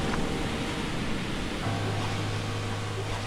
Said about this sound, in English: So it's not just the sound now, there's really waves